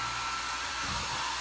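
A blow dryer runs steadily at close range with a constant airy roar and a low hum underneath, with no talking.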